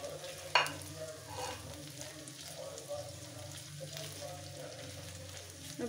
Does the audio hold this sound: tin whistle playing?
no